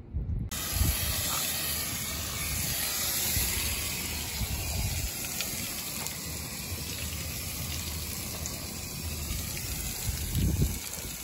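Water sprays steadily over the coils of a rooftop HVAC package unit during a cleaning wash, making a continuous broadband hiss that runs close and fairly loud for the whole stretch, with no voices.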